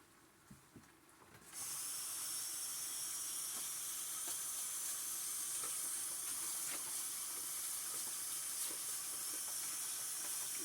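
Water runs steadily from a kitchen sink tap for rinsing, starting abruptly after a few faint clinks and then pouring in a constant close hiss with no talking.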